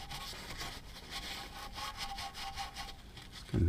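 A rag dampened with brake cleaner wipes excess oil off an LS engine oil pump pickup tube, giving a close, continuous rubbing swish with faint scraping strokes and a bump at the end.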